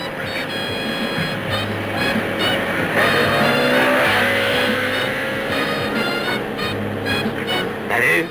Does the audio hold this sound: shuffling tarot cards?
no